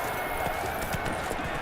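Horse hooves clip-clop in The Witcher 3: Blood and Wine, a quick run of soft, close hoof knocks on the ground over a bright ambient game backdrop, with a voice speaking over it.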